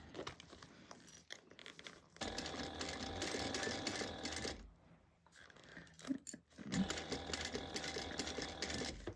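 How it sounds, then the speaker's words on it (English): A sewing machine stitches around a bag with a 1/8-inch seam, running in two steady whirring bursts separated by a short pause, close and fairly quiet, with no talking. "We are going to sew around at 1/8 of an inch"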